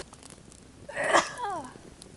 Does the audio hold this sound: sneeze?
yes